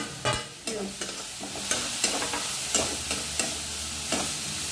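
Onion, ginger, garlic, chopped green chilli and curry leaves sauté in a pan for a Kerala fish pollichathu. A spoon stirs and scrapes in repeated strokes over a steady, close sizzle.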